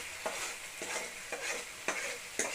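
Ginger masala being roasted and stirred in a non-stick kadai, with a steady soft sizzle broken by five regular scraping strokes of a spoon, close and moderately loud, with no voices.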